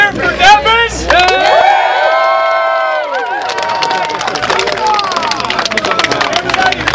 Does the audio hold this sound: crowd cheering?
yes